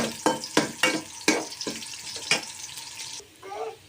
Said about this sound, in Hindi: कढ़ाई में ऑयल डाल के हमने दरमियाना सा प्याज भी डाल दिया है इसमें